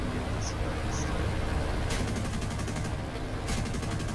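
Aircraft cannon firing in War Thunder, heard from a Ki-61 fighter cockpit: two brief bursts of rapid shots cutting through a loud, steady engine drone.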